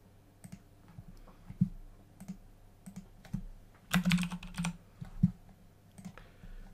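A computer keyboard and mouse are used while saving a PDF in Adobe Acrobat, giving scattered close clicks and taps, with a brief flurry of rapid clicking midway.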